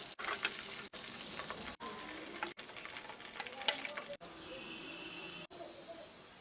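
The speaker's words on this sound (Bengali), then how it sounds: "20 থেকে 25 মিনিট হালকা আঁচে লেগ পিসগুলো ভেজে নিচ্ছি।" Chicken leg pieces fry in hot oil over a low flame for a crispy, shop-style finish, giving a steady crackling sizzle. The frying continues without a break, with faint kitchen sounds on top and a few brief breaks.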